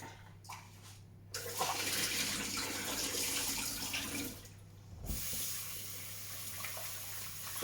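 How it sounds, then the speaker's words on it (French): Water runs steadily from a kitchen tap over potatoes being rinsed in a sink, a continuous close splashing rush that briefly dips before resuming. "J'aime bien rincer mes légumes et tout, moi."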